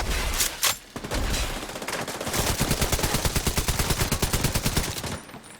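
Rapid automatic gunfire from Tom Clancy's The Division, a sustained burst of evenly spaced loud shots after a few brief opening blasts, close and dominant with no talking.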